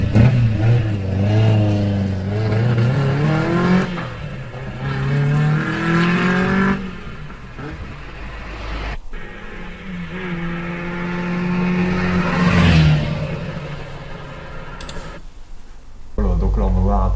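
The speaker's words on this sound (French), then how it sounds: "Une petite accélération de la R8 Gordini pour voir un peu la puissance de ce" A Renault 8 Gordini with an inline four-cylinder engine revs up several times, its pitch climbing in repeated surges and dropping back. Someone talks over the engine, which stays close and prominent.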